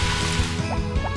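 Crops being watered in Harvest Moon: Back to Nature, a brief liquid pour with a couple of dripping splashes under ongoing game music.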